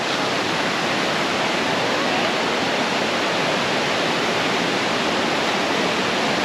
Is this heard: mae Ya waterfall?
yes